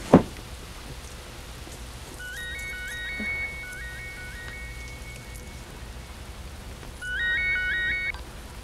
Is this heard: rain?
yes